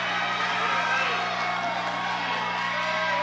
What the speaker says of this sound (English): This crowd is going crazy here.